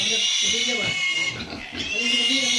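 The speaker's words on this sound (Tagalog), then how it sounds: "may bago kaming nabiling baboy mga friends" Pigs on a farm grunt and oink in a steady run of low, close snorts that carry through the whole stretch, with people talking over them.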